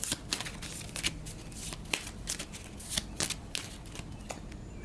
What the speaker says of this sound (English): So we'll give what's left of the environment deck a quick shuffle. Actually, I'm going to shuffle it like this.